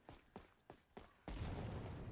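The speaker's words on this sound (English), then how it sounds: "I hear explosions up there" Distant explosions in Skyrim, four faint muffled booms spaced roughly evenly apart, followed by a louder rumbling burst that carries on as a low wash.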